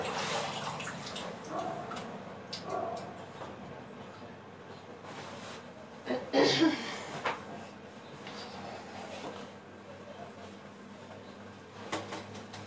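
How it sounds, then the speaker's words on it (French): Hands rinsed under a running kitchen tap, a soft spray of water with splashes and a brief louder gush midway, faint and close, with muffled room noise around it. "je vais rincer mes mains et je reviens"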